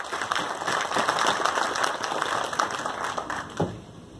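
A conference audience at an ammunition industry event gives steady applause that holds for several seconds, then tapers off near the end.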